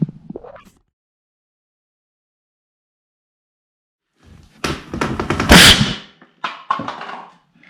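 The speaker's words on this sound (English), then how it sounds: "we'll get this sucker pumped up and fire it off." A homemade pneumatic ping pong ball cannon driven by an air cylinder with a ball valve fires once, a loud close burst and rushing blast after several seconds of near silence, followed by a few rattling knocks.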